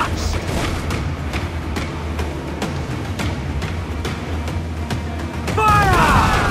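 Ship cannons fire in Assassin's Creed IV Black Flag, a steady run of heavy booms repeating about every half second over a low rumbling battle bed, with a louder burst near the end.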